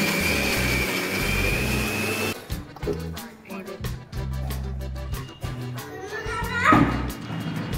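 A kitchen mixer grinder whirs loudly as it grinds whole peeled garlic cloves in its jar, a steady motor roar that then gives way to choppier bursts with a voice speaking nearby.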